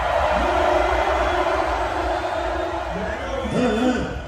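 A festival concert crowd at a live rap show roars with a continuous wash of noise, while a few voices whoop and shout above it near the end.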